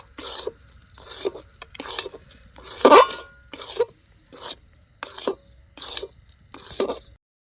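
A spoon stirs green pea filling in a metal pan, making regular scraping and rasping strokes in short bursts separated by pauses, close and clear with no talking.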